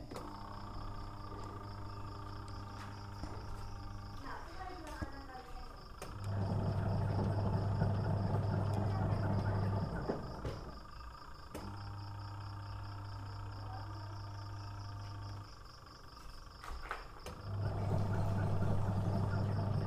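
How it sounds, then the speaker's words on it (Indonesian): A Panasonic twin-tub washing machine under restoration runs its wash cycle, a loud low motor hum that starts and stops in bursts with quieter pauses between, alongside clicks and mechanical rattling. "Kita uji yang pertama bagian pencucinya."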